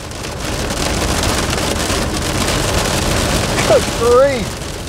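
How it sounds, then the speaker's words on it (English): Hail pelting a small Daewoo Matiz while driving on a road in Wales, a dense loud continuous patter over road and wind noise, with a brief whistling squeal near the end. "Hail!"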